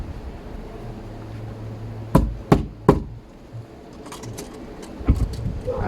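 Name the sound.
tapping a nail to mark door for deadbolt drilling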